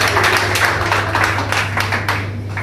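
An audience at a karate club's annual award ceremony claps briefly, a close, steady patter of many hands over a low electrical hum.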